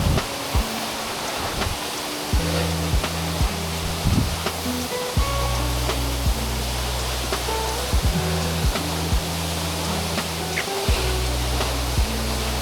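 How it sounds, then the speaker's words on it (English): A waterfall in the Sandiaoling hills of Taiwan roars with water crashing down, a dense, constant rushing wash close by, with occasional low rumbles and thuds underneath. "you can really appreciate the immense power of the water crashing down just a short distance"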